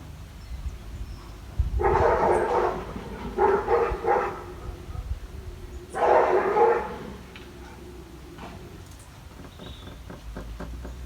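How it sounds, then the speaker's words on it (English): Neighbor's dogs barking and fighting in a nearby yard, three loud bursts of snarling barks separated by short pauses, then quieter yips and whimpers trailing off against low background noise. "That's the neighbor's dogs fighting."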